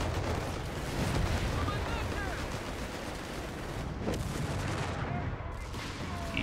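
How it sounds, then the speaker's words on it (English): Dense, continuous battle noise from a video game, with rumbling gunfire and explosions blending into a loud, sustained roar. "Alright, now I can return fire."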